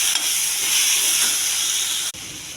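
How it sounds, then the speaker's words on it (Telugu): Coriander, mint and green chillies fry in a pan with a loud, steady sizzling hiss that cuts out sharply for a moment near the end before resuming. "కొత్తిమీర, పుదీనా, పచ్చిమిర్చి బాగా వేగనివ్వాలి."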